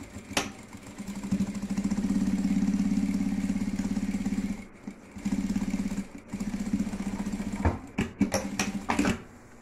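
A sewing machine stitches a topstitching seam on a fabric extendable toiletry box, running in a steady rapid whir for a few seconds, then stopping and restarting in short bursts.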